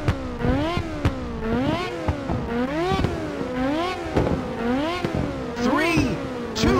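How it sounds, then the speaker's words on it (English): Race car engines rev repeatedly on the starting grid of Ridge Racer on PSP in downtown Rave City, the pitch swinging up and down in steady rhythmic waves, loud and close throughout. "it's time to fire up those engines"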